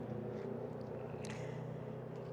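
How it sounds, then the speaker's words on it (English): A steady, faint stream of passing traffic near a campground outside Sedona, Arizona makes a continuous low engine rumble and drone, with no talking. "And with this steady stream of traffic,"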